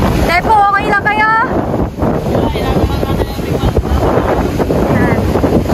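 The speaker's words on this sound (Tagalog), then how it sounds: "Grabe po, sobrang lakas ng hangin, sobrang lakas ng agos." Strong wind buffets the microphone in a continuous low roar beside a fast-flowing river during a rescue, with a person's voice rising briefly above it.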